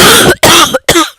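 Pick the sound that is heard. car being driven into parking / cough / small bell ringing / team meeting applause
cough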